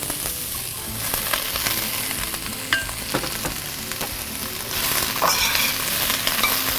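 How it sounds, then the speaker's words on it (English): Onions sweat in a hot pan, giving a steady soft sizzle broken by scraping stirs and occasional clicks of a utensil against the pan, close by with no talking. "I'm going to give this a quick stir, and then as soon as they start to get a little bit translucent"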